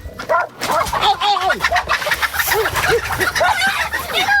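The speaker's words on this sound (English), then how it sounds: "what you're hearing is a combination of dog noises" Several dogs bark and yelp excitedly in a chaotic jumble, loud and close, with squawking chickens mixed in as a dog attacks one.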